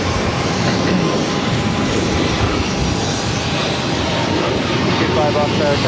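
A Delta Air Lines Airbus A220-100 jet taking off toward Nashville, its engines a loud, steady broadband roar that holds level throughout, with a faint tone running underneath.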